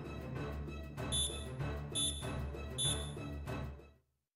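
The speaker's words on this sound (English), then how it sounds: "Alarms are blaring." Repeating electronic alarm beeps in the WALL-E "Lots of Bots" storybook game, four pulsing bursts over a low droning background before cutting off abruptly.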